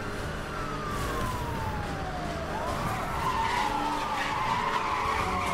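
Tyres skid and screech under a car pulling a sensitive parking brake in the racing game Need for Speed: Hot Pursuit, a long loud squeal sliding over steady engine roar with no talk.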